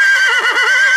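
A horse at a stud farm lets out a loud, close whinny that lasts the whole moment, its wavering pitch rising and falling without a break, with no talk over it.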